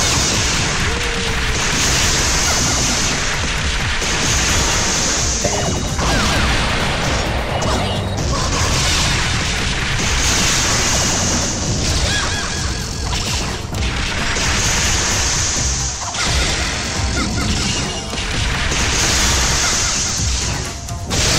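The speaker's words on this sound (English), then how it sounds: "Oh, a bomb!" Explosions and crashing from a bomb in the Viewtiful Joe 2 video game on PS2, a loud, continuous barrage of booms and smashes layered over game music and effects, with several heavier bursts.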